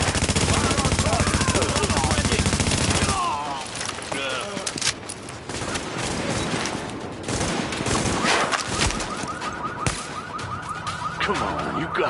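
Dense gunfire in The Division, a Tom Clancy shooter: continuous loud bursts and crackling shots fill the opening seconds, then keep going in scattered volleys under shouted voices, with a siren-like tone near the end.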